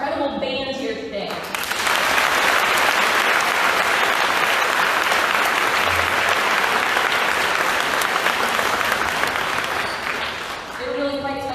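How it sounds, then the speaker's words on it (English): An audience at a Veteran's Day event applauds the band, a dense sustained burst of clapping that swells after a moment of talk and fades back under speech near the end. "I want a round of applause for our incredible band here today"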